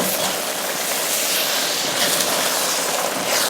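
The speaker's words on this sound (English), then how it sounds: "You want to boil it until the rice starts peeking through like that. And when you stir it, it should sound like this." A pot of boiling rice with pigeon peas is stirred, giving a dense, continuous hissing and bubbling crackle with no pauses, fairly loud and close.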